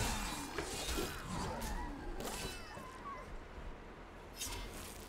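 A house cat meows several times in a cluttered indoor room, its calls rising over steady background noise and game sounds, with a faint clatter as something tips nearby.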